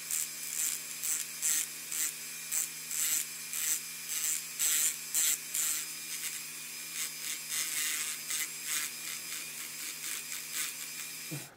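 Rhythmic rasping strokes of sanding and filing a model truck repeat steadily, close and fairly quiet, over a faint constant hum.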